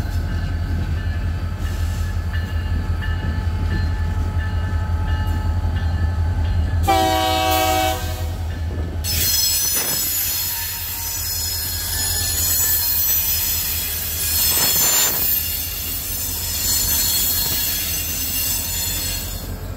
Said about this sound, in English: here comes the first train with the remote control